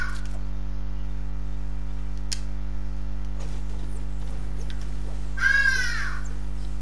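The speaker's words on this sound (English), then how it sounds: "did you hear that bird? It's called the Hadida." A hadeda ibis in South Africa calls once in a brief harsh squawk. It sounds fairly distant and rises over a steady electrical hum and faint background noise.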